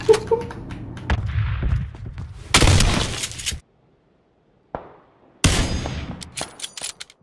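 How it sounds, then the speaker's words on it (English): Bursts of gunfire in the battle-royale game PUBG, loud cracking volleys broken by a short silence, then another sharp burst with scattered follow-up shots. "someone's shooting at me"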